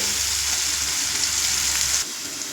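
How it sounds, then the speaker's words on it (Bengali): Potatoes with turmeric frying in a pan over a low flame give a steady, close sizzle that runs unbroken, then drops off sharply near the end. "দু থেকে তিন মিনিট আমি লো ফ্লেমে আলুটা ভেজে নিয়েছি"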